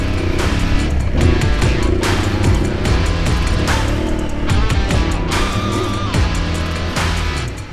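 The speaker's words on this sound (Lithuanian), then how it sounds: "Tad tokiam motociklui jį įveikti yra nemenkas iššūkis. Pasižiūrėsime, kaip su juo susitvarkys Tuaregas." An Aprilia Tuareg motorcycle engine roars continuously and loudly as it climbs a steep hill, revving and surging with shifting pitch throughout, with no talk over it.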